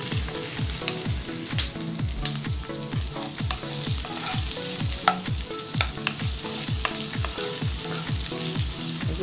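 Onion and garlic sauté in a pan for chop suey with a steady sizzle, while a utensil scrapes and stirs in a quick, regular rhythm of repeated strokes, close and continuous with no talking.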